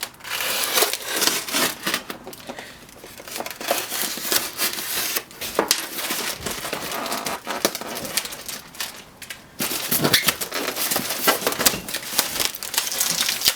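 Packing tape being peeled off a cardboard box, with close, irregular crackling tears and ripping bursts in uneven stretches and a short pause partway through.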